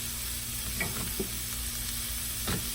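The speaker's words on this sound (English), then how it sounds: "The chorizo is cooking." Chorizo sizzling in a pan for huaraches, a steady frying hiss under a constant low hum, with a few soft stirring scrapes near and no talk.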